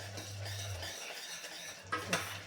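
A spoon stirs dalia kheer after a tempering is poured in, with soft scraping in the pot and a couple of sharper clinks near the end, quiet and close, no talking.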